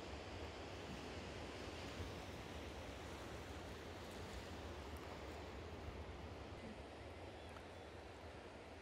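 Sea waves washing against sea cliffs, heard as a broad continuous wash of surf with some wind noise, steady and moderately distant, with no voices.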